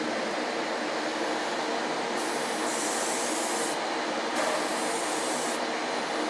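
Airbrush hissing steadily as it sprays paint onto the drivers and valve gear of a model steam locomotive, a continuous close spray with brief louder bursts while weathering.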